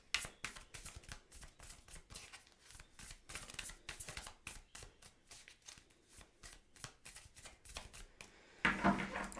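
Tarot cards being shuffled close up, a rapid run of crisp riffling slaps and flutters that keeps going for several seconds, with no talking.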